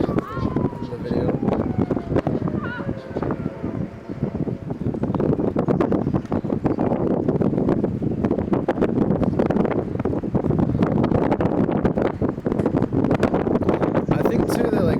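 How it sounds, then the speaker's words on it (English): Strong, steady wind buffets the microphone on an abandoned train bridge, a constant loud roar with gusty rumble throughout and no clear voices. "It was a windy day that day."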